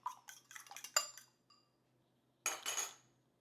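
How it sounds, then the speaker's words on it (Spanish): Eggs for homemade doughnut dough are beaten in a bowl with a utensil, giving quick clinking taps in two short bursts separated by a pause. The sound is close and fairly quiet. "Vamos a agregar también los huevos. A mí me gusta batirlo antes"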